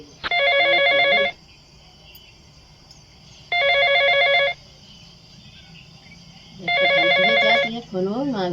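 A telephone rings in three separate bursts of electronic trilling, each about a second long, with silent gaps between them, loud and close, with a short vocal sound at the very end.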